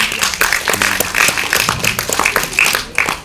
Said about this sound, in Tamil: அதுக்கு ஒரு கைத்தட்டு கொடுங்க